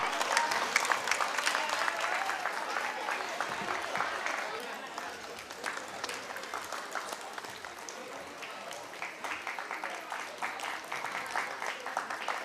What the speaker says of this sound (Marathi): पालकांनो टाळ्या वाजवा.